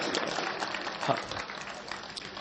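An audience claps at a Hindi kavi sammelan poetry gathering in Gurgaon, a continuous wash of applause from many hands with a little voice mixed in.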